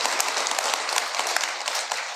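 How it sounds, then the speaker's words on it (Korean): An audience at a Buddhist lecture claps briefly, a dense, moderately loud patter of hands with no talk over it. "이럴 때 박수를 쳐야 되는데"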